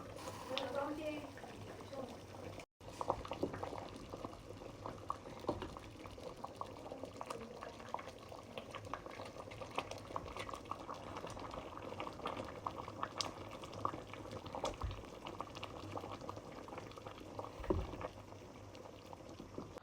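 Pot of rice, chicken and vegetables simmering in plenty of water, a steady close bubbling and gurgling boil that runs continuously, with a soft voice talking over it.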